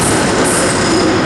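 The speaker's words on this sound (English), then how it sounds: "on its departure now will be the 1121 ScotRail service to Dunblane" A ScotRail class 385 electric train pulling out of Glasgow Queen Street station, a loud close rumble of wheels and motors with a faint high whine over it, heard alone.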